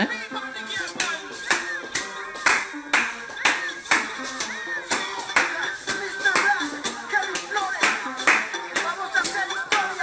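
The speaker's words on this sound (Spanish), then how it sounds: "Aplaudiu, encara que esteu a casa," Hands clap along to upbeat Latin dance music during a Zumba session, sharp regular claps on the beat, with a voice speaking over the music at times.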